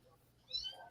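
A cat gives a single short meow of about half a second, quiet and close, with brief chatter around it and no words spoken.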